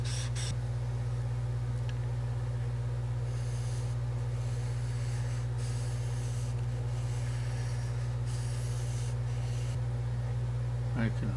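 A quarter-inch chisel has its back polished on a 1200 grit sharpening stone, giving soft, repeated scraping strokes that sit faintly over a constant low hum.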